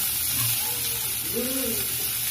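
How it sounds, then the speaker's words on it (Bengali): Onions fry in a small amount of oil for a katla fish head muri ghonto, a continuous close sizzle with faint tonal murmurs drifting above the hiss. "এবার এটাকে ভালো করে ভেজে নিতে হবে"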